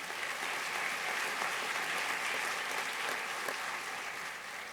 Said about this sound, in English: How about a round of applause for them?